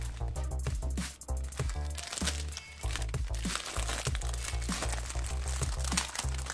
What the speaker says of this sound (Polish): Całość jeszcze w folii. Zaraz ją sobie zerwiemy.